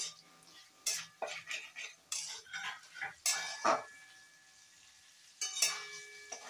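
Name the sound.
stirring and frying fried paneer in a pan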